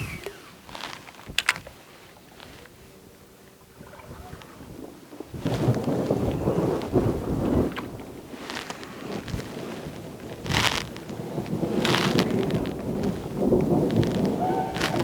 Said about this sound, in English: don't like this thunderstorm, son.